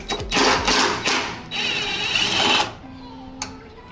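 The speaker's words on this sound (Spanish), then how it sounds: "Ahora vamos arriba a quitar los cuatro tornillos." Power tool whirring in short bursts while removing four bolts during front shock absorber replacement on a Mitsubishi Outlander Sport, a close, loud mechanical buzz that cuts off, followed by a faint hum and a single tap.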